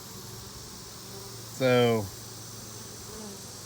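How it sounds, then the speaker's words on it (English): A clustered ball of honeybees, found in September without a queen, gives one short, loud buzzing swell in the middle of a quiet outdoor stretch, with a brief spoken word nearby. "just not sure why this ball of bees would be here without a queen"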